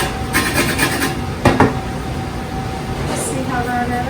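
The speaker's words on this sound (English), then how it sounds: "So we're going to take that down on your grater, get a little bit of the zest off." A lime is rubbed over a hand grater to take off its green zest, giving soft, scratchy rasping strokes, with a brief louder scrape near the middle and a low background wash.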